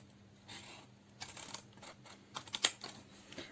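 Scissors cutting paper diagonally for a craft box, a few soft snips and crisp clicks in quick irregular succession, close and quiet with no talking.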